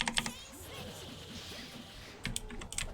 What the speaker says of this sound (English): the VOD is going to have a lot of me clicking on my keyboard because my keyboard is loud